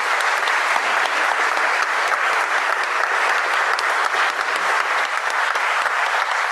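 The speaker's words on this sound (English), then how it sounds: "would you give every single person on this platform, apart from myself, a very big round of applause?" Audience applause at an election hustings in Tring, a dense and steady round of clapping from a crowd that fills the whole stretch without a pause.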